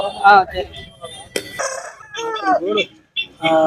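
A red-and-black rooster at a rooster market crows and clucks up close, its harsh calls rising and falling, with people talking in between.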